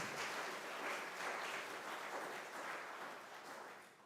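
Soft, distant applause from an audience thanking the live musicians before a history lecture on the bald eagle, a steady wash of clapping that slowly fades toward the end.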